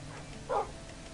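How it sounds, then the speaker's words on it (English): A single short dog bark from a Minecraft dog, one quick mid-pitched yap standing out clearly over faint game background. "oh, hey, we got a dog."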